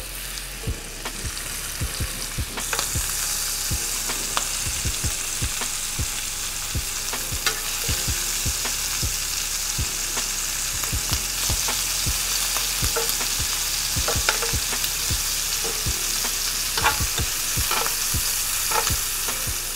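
Shrimp sizzle steadily in a skillet over medium heat, a continuous frying hiss broken by frequent sharp clicks and scrapes of stirring against the pan, with no talking.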